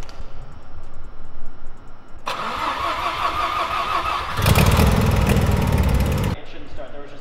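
A Mazda RX-7 FD with new turbos, its rotary engine cranked on leftover fuel with the fuel pump fuse pulled: a starter whir, then a loud rough catch that runs briefly and cuts out, while people talk nearby.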